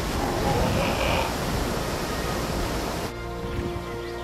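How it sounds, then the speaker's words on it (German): A loud, steady roar of rushing water from a waterfall in Ark: Survival Evolved on the Fjördur map, dropping slightly in level near the end. "Ganz schön laut, dieser Wasserfall."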